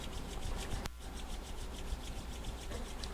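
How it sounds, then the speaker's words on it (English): Hands rub together in a steady, soft, dry swishing that keeps going for several seconds during a quiet Chi Gung session. No voices. "rub the hands together"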